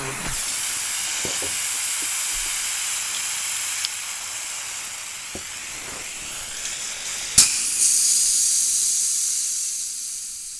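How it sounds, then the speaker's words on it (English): An air compressor tank drains with a long, loud, steady hiss of escaping air that runs close and continuous, with a brief clank and a louder burst near the end. "Just drain all this air out, disconnect the power, drain all the air out, because I'm going to show you guys on this air compressor."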